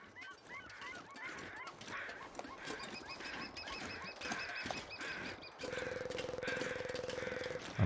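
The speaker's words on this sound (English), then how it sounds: "I'm just moving towards the sound of the crows." Crows caw in the snowy wilderness of the video game The Long Dark: repeated harsh, rasping calls overlapping at a moderate distance under a steady background hiss, with a sustained tonal drone entering near the end.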